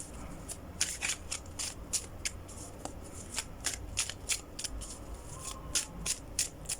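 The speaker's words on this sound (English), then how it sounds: "let's draw some more cards here." Tarot cards being shuffled by hand in quick bursts of crisp riffling flutters, close and quiet, repeating at an irregular rhythm without any voices.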